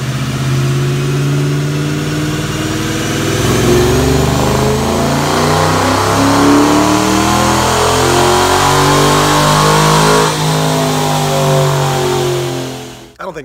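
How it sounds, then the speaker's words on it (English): A 2017 Dodge Challenger fitted with Kooks headers and an A8 automatic makes a full pull on a Dynojet chassis dyno. The engine roars loud and close, building steadily through the rev range, then cuts off abruptly at the end. "We're gonna make a dyno pull on our Dynojet."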